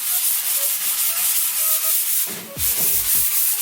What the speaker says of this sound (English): let's do a little sanding here, get everything all cleaned up